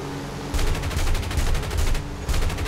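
Rapid automatic gunfire from a P-63A-10 Kingcobra fighter in War Thunder, a loud continuous burst lasting over a second, a short pause, then another burst starting.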